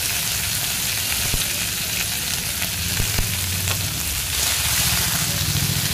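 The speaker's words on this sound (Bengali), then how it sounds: "তো এবার একটু নেড়ে চেড়ে নিচ্ছি তেলের ওপরে সমস্ত সবজিগুলোকে" Brinjal, beans and potato frying in oil while being stirred, a loud dense sizzle close by with scraping spatula strokes and a brief dip before the hiss swells again.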